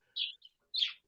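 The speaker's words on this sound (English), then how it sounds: "do you have a bird in the background?" Birds chirping in the background, two short, high, bright tweets separated by a brief pause, fairly faint with otherwise near silence around them.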